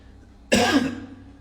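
A single sharp cough bursts out close and loud, then fades quickly into a quiet room.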